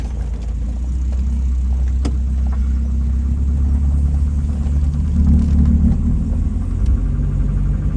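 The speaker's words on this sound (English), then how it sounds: "this thing's got bad piston slap" A 1992 Volvo 244 engine idles and rumbles close by in a steady low drone, with a faint repetitive knocking from piston slap under the hum and no talking.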